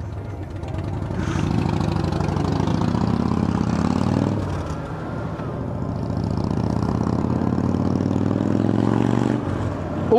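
A Harley-Davidson motorcycle engine idles nearby with a loud, lumpy, throbbing rumble that swells slightly and dips once before settling back, with no voices over it.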